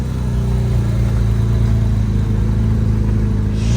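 A Porsche GT4 on its stock exhaust pulls away from a Porsche-day cars and coffee meet, its loud engine note holding a steady drone throughout, close by and with no voices.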